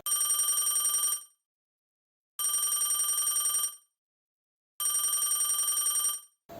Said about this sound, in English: suddenly the landline rang